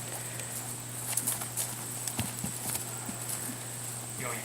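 Horse hooves clip-clop on the ground as a horse in training runs, a rapid irregular series of fairly faint, distant thuds and clacks under background hum, with occasional voices.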